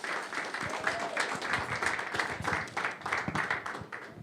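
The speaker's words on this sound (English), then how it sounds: "Big round of applause." An audience applauds as Liberland's Secretary of State takes the stage, a full continuous patter of many hands clapping, fairly even and moderately loud from start to finish.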